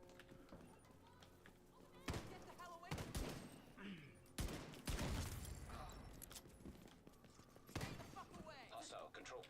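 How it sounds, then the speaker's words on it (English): Gunfire in the shooter game The Division 2, with loud bursts of shots at about 2, 3, 5 and 8 seconds over steady game ambience and background music, and speech heard nearby. "Who was shooting at me?"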